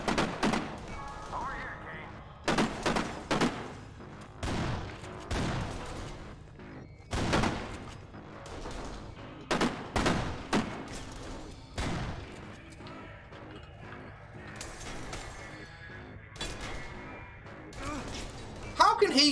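Bursts of gunfire from the video game Kane & Lynch: Dead Men, sharp repeated shots in irregular clusters with thuds between them, loud and close over a busy game background.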